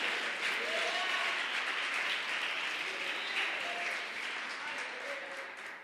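A church congregation applauding during a service, a steady wash of many hands clapping that holds evenly and tapers slightly toward the end, with a few voices faintly audible beneath.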